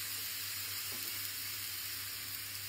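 Paneer and capsicum curry sizzles steadily in a pan after water and a little salt go in, a constant close, bright hiss with no break and no talk.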